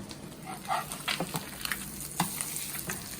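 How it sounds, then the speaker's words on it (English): Branzino fish shallow frying in a pan, a fairly quiet, even sizzle with a few sharp crackles and pops scattered through. "the Branzino fish supposed to be cooked like only the 4 to 5 minutes, the shallow fry"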